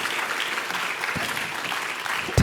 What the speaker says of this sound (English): Panelists, another round of applause.